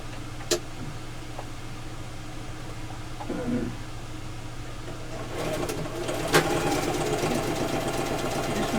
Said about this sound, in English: So let me sew them real quick.